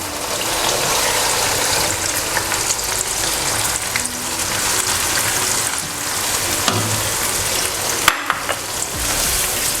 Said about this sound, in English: So give it a nice stir